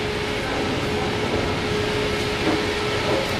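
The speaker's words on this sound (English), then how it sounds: "Next train at Oak Grove comes in 3 minutes. You can hear it coming from that tunnel." An MBTA subway train approaches through the tunnel at Oak Grove station in Boston, a steady loud rumble with faint rail clatter building gradually, with no talk.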